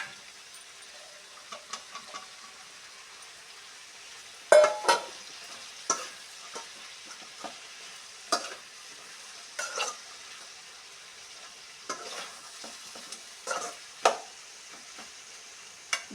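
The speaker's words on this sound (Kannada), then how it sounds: "ಡೀಪಾಗಿ ಫ್ರೈ ಆಗಬೇಕು ಇದು." Cauliflower and mixed vegetables fry for vegetable pulao. Quiet sizzling is broken by irregular scraping and clattering stirs of a spatula in the pan, some louder than others.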